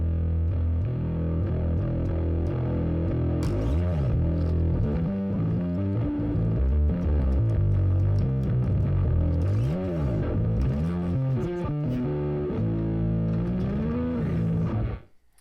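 A bass guitar through the AmpliTube SVX bass amp simulator's distortion plays a gritty, heavily distorted line with sliding, bending notes, loud and continuous, then cuts off abruptly at the end.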